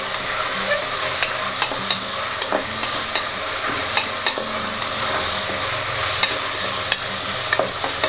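Tomato biryani mixture is stirred in a pot under a steady, moderate sizzle. Regular spoon scrapes and light taps recur every second or so, and no one speaks.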